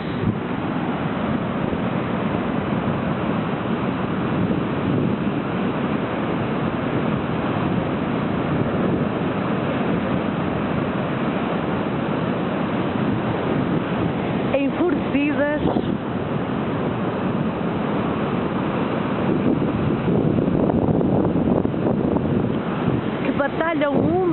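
Atlantic surf and wind at Praia do Cabo do Mundo beach in Matosinhos, northern Portugal, a continuous broad roar of waves and wind with faint voices briefly heard.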